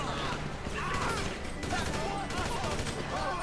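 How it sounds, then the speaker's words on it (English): A GTA Online shootout inside a building, with dense continuous gunfire and crashing impacts that blur into a loud, unbroken wash, while a voice seems to sit faintly in the mix. "there's a lot of gunfire goes on when you land in the building"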